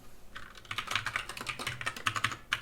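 Rapid, uneven clatter of keys on a computer keyboard, close and fairly quiet, with bursts of keystrokes running steadily throughout and no voices.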